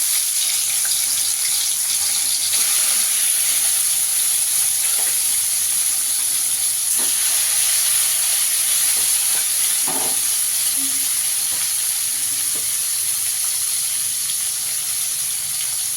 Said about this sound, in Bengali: মাছটাকে একটু পিঠো পিট করে ভেজে নেব।